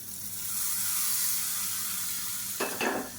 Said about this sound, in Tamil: எப்பயும் போல் கடுகு, உளுந்து, பெருங்காயம், கருவேப்பிலை, வரமிளகாய் போட்டு தாளித்ததை சட்னியில் சேர்த்துக்கலாம்